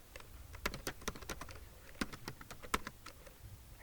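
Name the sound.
typing on a computer keyboard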